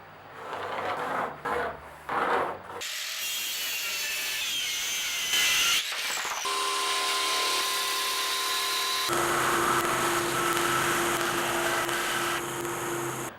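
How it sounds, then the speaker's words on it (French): A power saw cuts a wooden board in two, beginning with short bursts before a long, loud, rasping cut whose pitch shifts as the blade moves through the wood, close up and with no voices. "Donc ma planche est coupée en deux."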